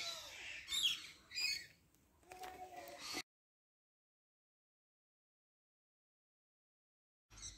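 Lorikeets in a parrot aviary at Parcs de Lumigny give several shrill, chirpy squawks over faint voices and murmur, close by, before the sound cuts to silence and briefly returns.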